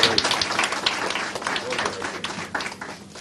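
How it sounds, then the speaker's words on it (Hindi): Dense, crackling applause from a sizable crowd at a deputy superintendents of police graduation ceremony fills the whole stretch, steady and loud with no pauses. "एक बार तालियां हो"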